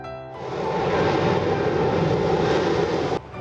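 A MiG-21 fighter jet of the Indian Air Force roars past, a loud, steady broadband engine rush that builds quickly, holds for about three seconds, then cuts off abruptly, with no voices.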